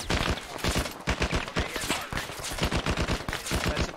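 Suppressive gunfire in the ARMA video game, loud continuous bursts of rapid shots with dense automatic fire, no pauses, filling the whole stretch.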